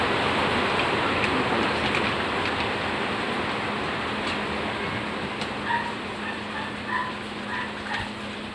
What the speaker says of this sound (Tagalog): Ako anak, umuulan